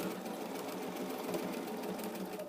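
A sewing machine stitches fabric in a steady, fast, continuous whir with rapid needle rhythm, heard close and without pause throughout.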